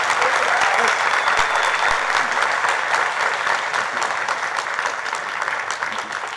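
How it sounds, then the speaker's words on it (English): A crowd applauds at a black belt grading, dense steady clapping filling the room for several seconds and tapering slightly toward the end. "I give Dr. Jama a nice big round of applause"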